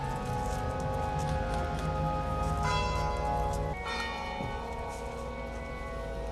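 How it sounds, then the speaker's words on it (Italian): Church bells toll steadily as a coffin arrives for a funeral, their ringing tones sustained and fairly distant, with a fresh strike partway through and no talking. "Il feretro arriva al suono delle campane"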